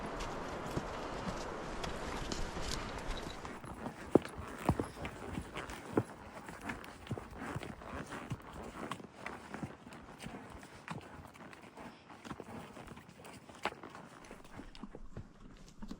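Horses walk along a hillside trail during an Idaho elk hunt, their hooves clip-clopping in an uneven, continuous rhythm close by, with rustling and faint breathing around them.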